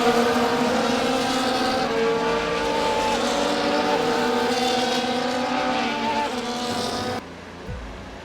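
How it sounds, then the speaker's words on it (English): F1 24 racing game cars lining up on the grid, a loud sustained engine drone with shifting tones that cuts off abruptly near the end, leaving a faint low rumble. "As the cars come back towards the grid to line up for the start of the race"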